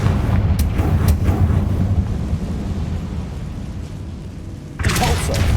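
A rumbling fiery Confringo spell blast in Hogwarts Legacy inside a decayed catacomb, a loud low boom that rolls on for several seconds before a sharper crackling burst near the end.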